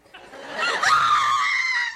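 A woman lets out a sustained, shrill scream lasting nearly two seconds in a domestic British sitcom scene, loud and close, with no other talk over it.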